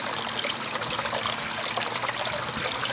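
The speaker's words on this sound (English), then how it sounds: "I came to the stream of water." A natural stream runs with water trickling and burbling steadily, close and continuous for the whole stretch, with no voices.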